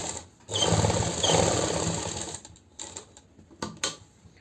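A sewing machine stitching a kurti collar along buckram, one close burst of rapid whirring stitches lasting about two seconds, then brief clicks and short mechanical taps as it stops, no talking.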